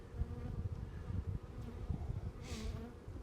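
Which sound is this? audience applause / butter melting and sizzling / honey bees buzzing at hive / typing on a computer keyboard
honey bees buzzing at hive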